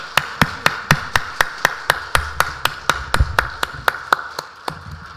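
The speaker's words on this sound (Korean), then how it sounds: "하나님께 영광의 박수를 올려드리겠습니다." A church congregation at a Sunday worship service claps in a steady, brisk unison rhythm, about four claps a second, loud and close, with no voices over it.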